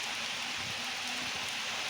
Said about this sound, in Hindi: तो ये बारिश की आवाज़ आप सुन सकते हैं